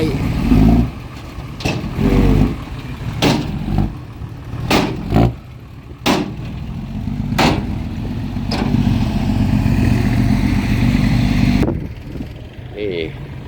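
A modified pickup truck race engine, a Toyota 1JZ-type setup with a big turbo, revs in sharp bursts at close range. It idles roughly between the throttle blips, and people talk over it.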